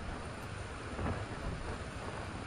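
Heavy nighttime rain in Nha Trang during a tropical depression, a dense, steady hiss of downpour on a flooded street, with a low rumbling swell partway through.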